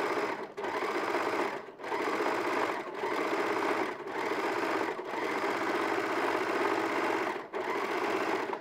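An overlocker sewing machine runs close to the left-hand needle, a loud steady buzzing whir in several long bursts separated by brief pauses, with no voices.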